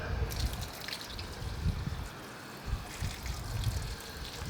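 Water siphons through a hose into a bucket while a birth pool is being set up, a faint continuous trickle with soft gurgles and low bubbling pulses, quiet and without voices.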